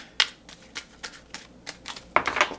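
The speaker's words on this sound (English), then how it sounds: "these cards are new and hard to shuffle" New, stiff tarot cards being shuffled in a series of sharp, separate flicks and slaps, close and fairly loud, with short pauses between strokes.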